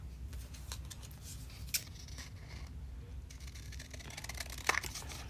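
Scissors snip a strip of paper for a mini collage in a few faint, quick cuts close by, set against a low background hum and light handling noise.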